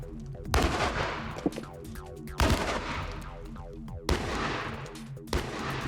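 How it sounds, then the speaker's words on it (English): Cannon fire striking an earth-backed section of brick wall, heard as three heavy, booming impacts about two seconds apart, each followed by a long rumbling decay with crumbling debris. "Now, the cannon will be trained on the earth-backed section of brick wall."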